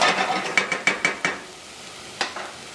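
Diced onion and smashed garlic sizzle in olive oil while the pan is shaken, giving a rapid series of scraping, rattling bursts over a soft frying hiss, then a pause and two more stirs.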